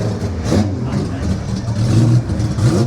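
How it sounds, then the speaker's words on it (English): Classic car engine revs at the Goodwood Revival vintage motoring event, a mid-distance rising roar under loud nearby talk and crowd ambience. "You could hear that one revving in the background."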